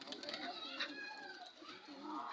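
Pigeons coo softly in a backyard loft, their faint, low murmuring calls mixing with a person speaking nearby at a distance.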